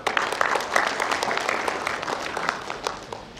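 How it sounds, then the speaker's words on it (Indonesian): Audience applause at a 2016 college graduation ceremony for STMIK Mahakarya: a dense, steady wash of many hands clapping together, filling the hall evenly for a few seconds with no clear talk over it. "Oke, tepuk tangan dulu."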